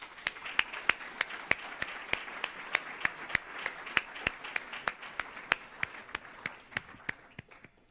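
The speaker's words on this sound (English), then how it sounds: "I'd like to give a round of applause to these people who have worked for the last 40 minutes" Scattered hand claps from an audience at a talk on US UFO crash retrieval, a steady string of sharp individual claps over a soft crowd wash, moderately distant and with no voices.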